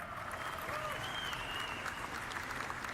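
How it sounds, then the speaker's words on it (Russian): Audience at CitizenCon, the Star Citizen fan convention, applauding in a large hall, a sustained dense wash of clapping with faint voices mixed in underneath. "Что-то все хлопают, но я не понимаю."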